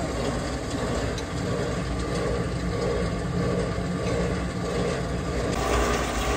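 A CopperMine CT-610 cable granulator runs steadily as it strips and chops cables, giving a loud, unbroken mechanical churning and rattling drone with no pauses and no voices.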